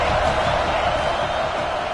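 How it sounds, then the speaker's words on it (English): Dense stadium crowd roar and cheering in a college football video game, Clemson versus Florida, a steady loud wash of noise with no breaks. "This crowd ready to make its presence known."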